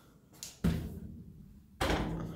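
A vehicle cargo door fitted with new gas struts, opening forcefully: a sharp thunk, a sustained mechanical rush, then a second loud thump and hiss close by.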